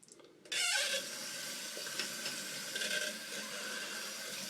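Tap water runs steadily and loudly for a hot rinse after a straight razor shave with a Dovo Shavette, starting abruptly after a brief quiet moment and continuing alone without talk.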